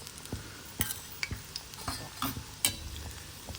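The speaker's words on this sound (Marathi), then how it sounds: "उलट्या पालट्या करायच्या छान सगळीकडून त्या तळल्या गेल्या पाहिजे" Bhaji fritters frying in hot oil in small batches of five or six, a soft steady sizzle broken by scattered clinks and scrapes of a spoon turning them.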